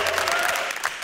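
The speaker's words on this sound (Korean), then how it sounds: "박수." Crowd applause at a Yonsei University basketball club court, a dense burst of many hands clapping together, fairly loud and close, fading slightly near the end.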